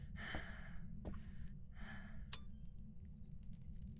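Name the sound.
heavy breathing in Phasmophobia video game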